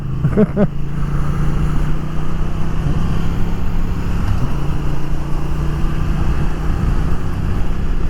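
A Triumph Thruxton RS motorcycle engine drones steadily at moderate revs while riding, a continuous close rumble mixed with wind noise and no clear breaks.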